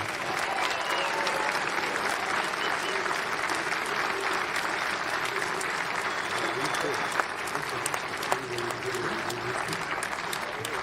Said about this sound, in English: a big round of applause for the third place team, the national team of the USA